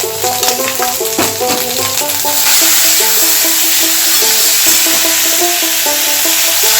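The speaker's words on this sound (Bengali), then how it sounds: "এরপর আমি ছেড়ে দেবো সিদ্ধ করা সবজিটা।" Boiled vegetables hit a hot pan for a Bengali daal sabzi, giving a steady loud sizzle and frying hiss under a looping musical backing, with a few stirring clatters early on.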